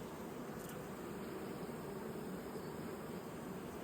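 Honey bees drone at an open hive during an inspection, a faint, continuous, even buzzing hum with no voices.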